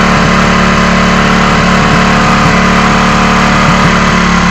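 Motorcycle engine held at high rpm during a carburetor air-petrol mixture adjustment, a loud, steady, continuous drone with a faint rhythmic pulse and no pause throughout.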